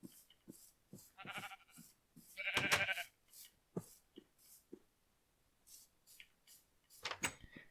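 Sheep bleat in the Minecraft video game as they are led into a pen, several short separate calls with quiet gaps between them and one louder burst in the middle.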